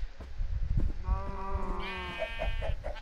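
Minecraft sheep bleat twice in quick succession, a wavering game bleat heard close over faint background game noise and a few soft clicks.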